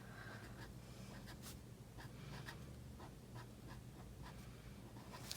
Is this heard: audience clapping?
no